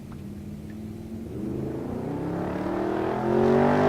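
Toyota Supra on a drag strip run at Tulsa Raceway Park, engine revving upward in rising tonal sweeps as it accelerates, growing louder and more strained toward the end.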